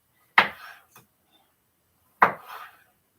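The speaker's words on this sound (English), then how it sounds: "It's good to cut up onions." A knife chops onion on a board in a quiet kitchen: two crisp, separate strikes about two seconds apart, with a faint tap between them.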